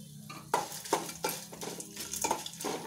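Red chilies and asafoetida fry in oil for ridge gourd chutney, a soft sizzle under repeated sharp clinks and scrapes of a spoon stirring against the pan, in an irregular rhythm close up.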